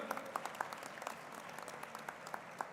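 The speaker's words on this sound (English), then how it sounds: "Let's give a big round of applause" An audience at a student parliament event claps in a steady wash of applause to welcome a former Vice President of India, with distinct nearby claps over a softer, distant crowd, fairly quiet overall.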